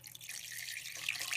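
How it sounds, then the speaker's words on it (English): Water pours into a cooking pot of chicken curry with spices, a short soft splashing trickle that rises slightly near the end, close and fairly quiet. "So I'm going to add a little bit more water."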